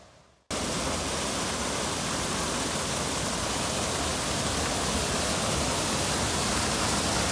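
A small, clear river flows downstream in a steady, loud, unbroken rush of water that starts abruptly after a brief quiet moment and continues evenly to the end.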